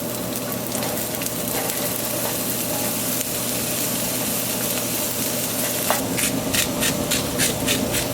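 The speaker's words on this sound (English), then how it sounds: "I want to saute the onions, just sweat them down until they're translucent" Onions sweating gently in wild mushroom and sage infused olive oil on a Camp Chef flat top griddle, a steady low sizzle running throughout with a hum underneath and brighter crackling spurts near the end.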